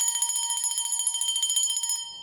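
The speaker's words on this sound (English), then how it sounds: "Just ringing the bell to dissipate any dark forces" A small hand bell ringing rapidly and continuously, bright metallic tones pulsing for about two seconds before fading out, close and clear with no talking.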